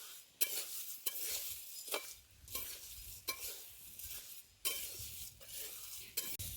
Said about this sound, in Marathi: हे बिन तेल टाकतात भाजायचं सगळं.